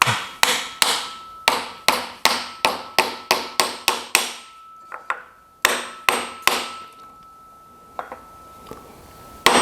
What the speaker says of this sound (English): Maybe like tap here with a wooden block and a hammer.